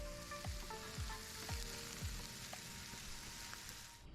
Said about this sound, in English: I'm going to be quiet so you can get the ASMR of that sizzle.